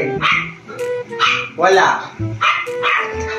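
A person's voice imitates a dog, giving several loud, rough bark-like yelps and whimpers in quick succession during a charades-style guessing game, with other voices speaking around them.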